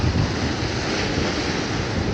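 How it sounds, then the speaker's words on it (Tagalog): Strong ocean waves in sudden rough weather during a fishing trip, a loud, churning wash of surf roaring up close, with wind buffeting the microphone and no voices. "lalakas ng alon, mas lumalakas pa ngayon."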